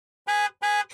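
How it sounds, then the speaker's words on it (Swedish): Two short, bright car-horn toots sound in quick succession, loud and close, with silence before them and nothing else around them. "Tut tut bilen!"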